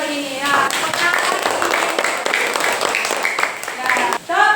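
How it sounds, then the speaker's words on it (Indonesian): Children in a classroom clap for the groups in a burst of close, busy applause under loud voices calling out together. "Kita berikan tepuk tangan."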